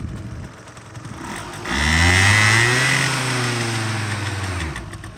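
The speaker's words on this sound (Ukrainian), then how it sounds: "двигунчик ви самі чуєте, прекрасно працює, без жодних зауважень" Honda Dio AF-34 scooter engine running nearby, revving up and holding a steady buzzing drone before settling back down.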